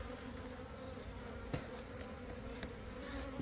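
Honeybees hum in a dense, steady drone during a beehive relocation, with a few individual bees buzzing briefly closer; the swarm is faint but continuous throughout.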